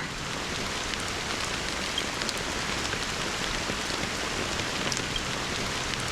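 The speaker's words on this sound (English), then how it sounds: "How long has this rain been going on for?" Steady rain pours in a Honkai Star Rail game scene, a dense continuous hiss of drops on surfaces with scattered sharper patters, even and unbroken with no talk.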